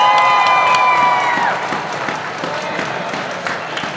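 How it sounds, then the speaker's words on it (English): Outdoor crowd at a White Cane Day gathering at the state capitol claps and cheers, with a few shouts at first, the applause thinning to scattered claps over four seconds. "So let's give them all a round of applause."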